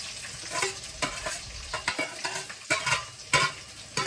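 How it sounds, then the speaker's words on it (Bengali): Whole green chillies and onion sizzle loudly in hot oil, the chillies spitting, with rhythmic scraping and stirring in the pan close up, no voices. "লঙ্কাগুলো কাটিনি বলে না লঙ্কাগুলো খুব ছিটকাচ্ছে, ফুটে উঠছে, তাই পেঁয়াজটা দিয়ে দিলাম"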